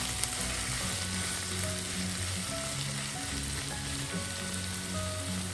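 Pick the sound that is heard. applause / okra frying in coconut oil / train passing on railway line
okra frying in coconut oil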